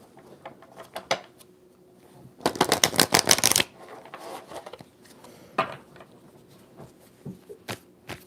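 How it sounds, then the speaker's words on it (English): A rapid riffle shuffle of tarot cards fluttering together for about a second, surrounded by softer taps and handling clicks of the deck being squared. "let me just do a quick ruffle shuffle"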